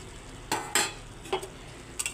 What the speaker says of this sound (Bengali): ভাজে রাখা চিংড়ি মাছগুলো দিয়ে দিচ্ছি।